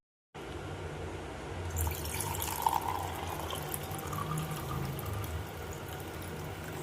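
Rice water is poured out, giving a faint, continuous trickling splash that starts abruptly and runs to the end. No one speaks.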